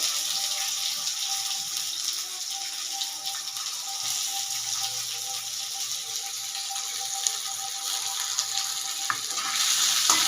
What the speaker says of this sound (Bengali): যতক্ষণ না পেঁয়াজটা লাল করে ভাজা হবে ততক্ষণ আমি এভাবে নেড়ে নেড়েই ভাজবো